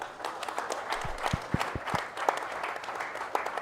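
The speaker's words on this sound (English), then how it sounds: "Can we have a big round of applause for Tollygunge Club?" A crowd applauds the Tollygunge Club at the DP World Players Championship golf prize ceremony, steady clapping from a sizeable audience with a few louder close claps standing out over about three and a half seconds.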